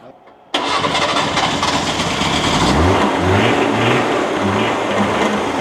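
A Fiat 500 Jolly Giardiniera's small engine cranks and catches, then settles into a loud, steady idle with a throbbing low rumble close by.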